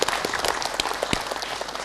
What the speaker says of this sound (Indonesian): Mohon tepuk tangannya yang meriah.